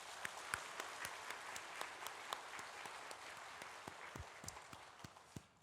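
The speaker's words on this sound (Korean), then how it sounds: "우리 한 번 더 박수하도록 하겠습니다" A church congregation claps for the choir at a New Year's first Sunday worship service, faint and distant, with scattered individual claps standing out over a soft, steady patter.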